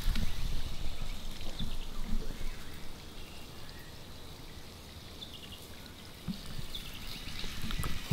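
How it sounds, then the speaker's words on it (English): An outdoor garden water feature runs nearby on a morning, a soft steady trickle and splash with small dripping details, fairly quiet and with no talking. "I've even got the water feature going over there."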